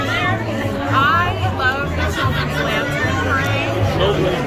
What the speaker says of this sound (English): there's a huge crowd here on Saturday night